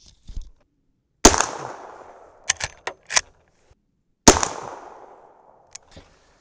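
Two sharp, loud .357 Magnum shots from a Henry Big Boy lever-action rifle firing powder-coated 158-grain semi-wadcutter bullets, each with a ringing outdoor decay, separated by a few metallic clicks of the action.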